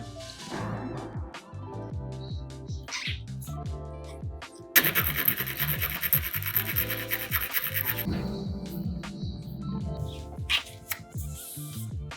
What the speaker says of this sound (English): Now the stem is cut to size